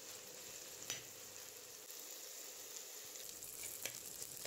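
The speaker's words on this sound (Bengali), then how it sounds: "নুনটাকে আমরা ফুলকপির সঙ্গে ভালোভাবে মিশিয়ে দিলাম এবং মাঝে মাঝে একটু একটু করে নেড়ে দিচ্ছি যেন ফুলকপিটি পুড়ে না যায়" Cauliflower with salt frying in a pan gives off a soft, continuous sizzle, with a few faint scrapes from occasional stirring.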